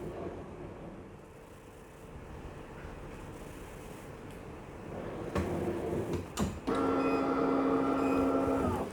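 A LOKLiK Impress Auto 2 heat press lowering by itself, a soft mechanical hum and whir rising partway through, then a steady tonal motor drone near the end, close and quiet, no voices.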